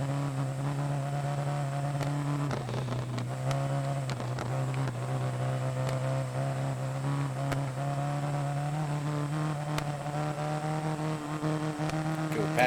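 Rally car engine in Dirt Rally, running on a rough Australian stage with a damaged car, holds a steady loud drone with shifting pitch and brief rev changes throughout.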